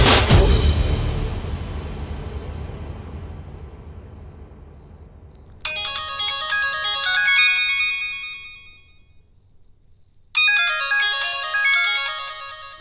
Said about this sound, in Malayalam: ഫോൺ ബെല്ലടിച്ച് തീരാറായിട്ടും എടുക്കാതിരുന്നപ്പോ ഞാൻ വിചാരിച്ചു ഉറങ്ങി കാണുമെന്ന്.